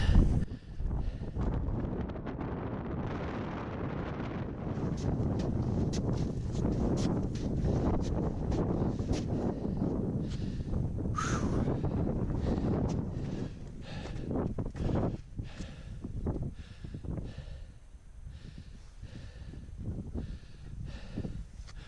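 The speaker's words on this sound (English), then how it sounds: "Bit breezy up here, like it normally is." Strong wind buffets a snowy mountain summit on Ben Lomond, a loud continuous roar with rushing gusts and mic buffeting that ease slightly toward the end.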